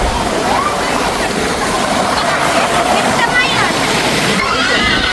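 Water rushes steadily down a water slide at a play park in Colombo, a loud continuous splashing flow with occasional sloshes, while someone talks over it throughout.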